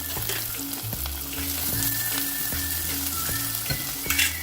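Crushed shallots, ginger and garlic fry in hot oil for a spicy Tamil fish curry, a dense close sizzle with repeated scraping and clinking of a spoon stirring the pan, no voices.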